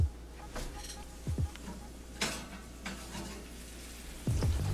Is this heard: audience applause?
no